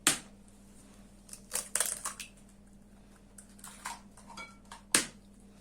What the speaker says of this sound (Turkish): Şimdi yumurtaları kırıyorum.